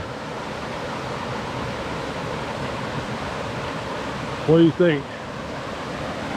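Steady broadband rush of a creek flowing through a forest canyon in Pisgah National Forest, continuous and fairly close, with someone briefly speaking near the end.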